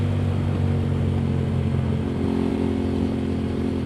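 An Aprilia Tuareg 660 adventure motorcycle, carrying luggage on its rear rack, holds a steady, close mid-pitched engine drone under throttle throughout, with no talk.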